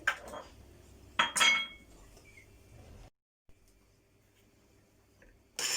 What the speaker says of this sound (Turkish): tane yumurta kırıyoruz